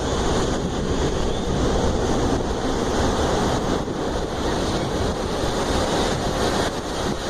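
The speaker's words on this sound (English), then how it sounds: "In Acapulco, towering waves rolled in," Towering ocean waves rolling in on a sea swell at Acapulco, a continuous loud roar of surf and crashing water with wind buffeting the microphone, steady throughout with no voices.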